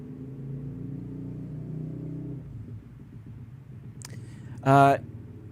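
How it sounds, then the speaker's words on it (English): A motorcycle engine drones low and steady at a distance, revving in place, with a brief louder burst of noise near the end. "He's just on his motorcycle revving."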